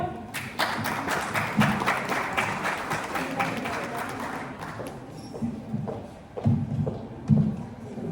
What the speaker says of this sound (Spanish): Recibimos al doctor con un fuerte aplauso